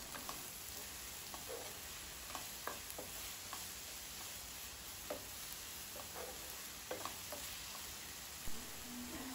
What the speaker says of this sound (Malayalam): അപ്പോൾ ഞാൻ കുറച്ചും കൂടി എണ്ണ ആഡ് ചെയ്തിട്ട് ഒന്നും കൂടി വഴറ്റാൻ പോകുവാണ്